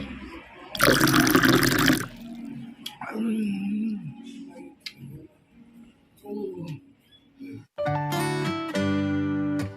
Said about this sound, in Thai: เติมน้ำซุปเข้าไปหน่อย